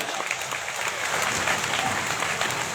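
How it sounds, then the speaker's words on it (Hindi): A crowd at a Shrimad Bhagavat Katha gathering in Nagaur claps in welcome, a dense, continuous roar of applause that holds steady and grows slightly fuller. "तालियों से स्वागत।"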